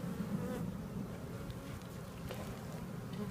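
Honeybees buzzing at an open beehive on a farm in Manoa, a dense close hum of many wings with a few individual bees droning past, steady and moderately soft throughout.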